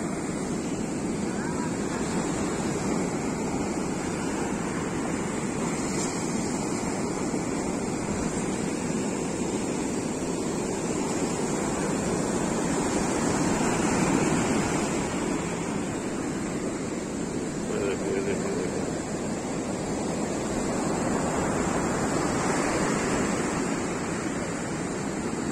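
Ocean waves surge up Goa beach in India, a continuous broad roar of surf washing in with wind buffeting the microphone, while someone talks faintly at times.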